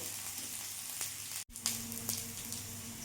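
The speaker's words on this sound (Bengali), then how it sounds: "সিম আঁচেই ফোড়নটা ভাজতে হবে" Tempering spices sizzling in hot oil over a low gas flame, a soft continuous frying hiss with a brief break partway through and small crackles.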